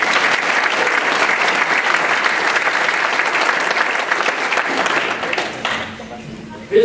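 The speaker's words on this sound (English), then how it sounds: "Welcome all our guests. Let's give them a round of applause." Sustained applause from a Rotary Club of Tulsa luncheon audience welcoming guests, dense and steady for about six seconds before thinning out into scattered claps and murmuring.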